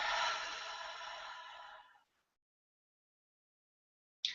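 A long breath pushed out through the mouth during a guided breathing exercise, a soft, airy exhale lasting about two seconds before fading into silence, followed by a brief breathy onset at the very end.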